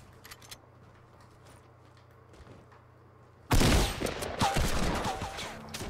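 Gunfire in the video game Fortnite, a quiet stretch with faint clicks, then an abrupt loud burst of rapid shots at about 3.5 s that keeps going as a dense, roaring barrage.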